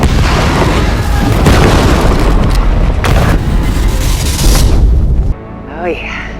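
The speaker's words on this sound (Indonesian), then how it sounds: "Tiba-tiba Hunter muncul dan menembakkan beberapa panah peledaknya." Explosive arrows in Monster Hunter burst in a rapid, dense string of loud booms and pops that cuts off abruptly, followed by a quieter tail of game sound.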